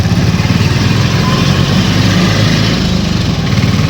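A phatphatiya auto rickshaw engine runs steadily and loudly at close range, a continuous low, rattling drone with no talk, on a bumpy evening ride.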